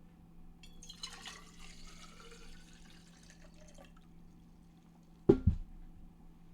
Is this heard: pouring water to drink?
yes